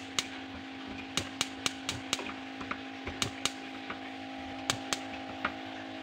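Small, sharp pops from a built-in gas stove's smallest middle burner failing to light, about a dozen brief clicks scattered irregularly over a steady low hum.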